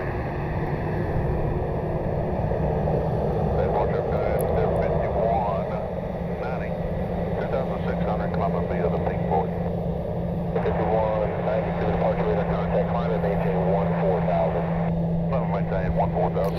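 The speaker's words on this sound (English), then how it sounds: "Southwest Flight 2517, it's Colorado One heading over to Midway." A Southwest Boeing 737 airliner in the Colorado One livery passes at an airport, making a loud, continuous jet engine roar with a steady low hum that lasts throughout.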